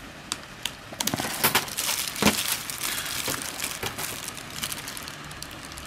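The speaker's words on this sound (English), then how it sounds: "let's just open this little package up" A small retail package for a Jacksons JSL2 sliding door latch is opened by hand, its packaging crinkling and crackling in a run of close, moderately loud rustles and sharp crinkles with no talking.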